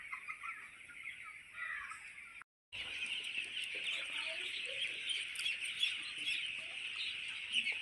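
Chickens on a poultry farm cluck and chatter steadily in a dense flock chorus, fairly faint, with a brief gap of silence partway through.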